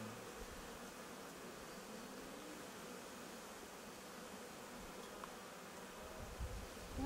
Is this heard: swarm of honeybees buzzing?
yes